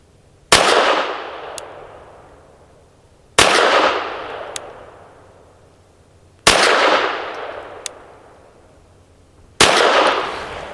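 Four sharp, loud shots from a Hammerli Forge H1 .22 rifle firing hypervelocity ammunition, spaced about three seconds apart, each cracking hard then ringing off in a long fading echo.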